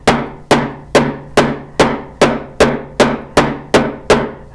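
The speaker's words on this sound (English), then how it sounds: "when I'm hammering, I'm holding my surface and I'm hammering" A hammer strikes a metal surface to texture it, about ten evenly spaced, loud, ringing blows in a steady rhythm, close up with no talking.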